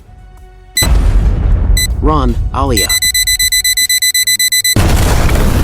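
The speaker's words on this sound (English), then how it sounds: "a red alarm starts blaring from the car." Robot car alarm blaring in rapid, loud repeated electronic beeps, preceded by a heavy booming blast and followed by another roaring burst; a voice shouts briefly amid the noise.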